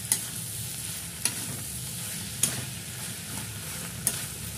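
Mixed vegetables and fish head curry fry steadily in a pan with a constant loud sizzle, while four sharp scraping stirs land at roughly one-second intervals. No one talks.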